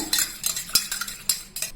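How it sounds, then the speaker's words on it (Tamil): Spoon stirring salt into half a tumbler of water, a series of light metallic clinks and scrapes against the glass in an uneven rhythm, close up with no talking. "தண்ணியில் உப்பு கலந்து விட்டுலாங்க."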